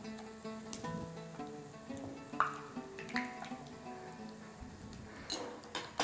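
Tunisian yoyo dough fries in hot oil with a faint, steady sizzle, broken by occasional light clicks and taps of a utensil against the pan.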